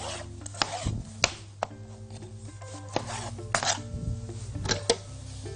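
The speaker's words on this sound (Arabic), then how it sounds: "ناخد عندنا الطماطم نقطعها مكعبات" Tomatoes being diced into cubes on a board, a knife striking in irregular, close taps with short pauses between bursts, fairly quiet with light scraping in between.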